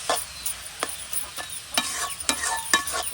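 Spatula strikes and scrapes against a pan in repeated sharp clacks while small fish fry with a soft sizzle underneath, close and fairly quiet.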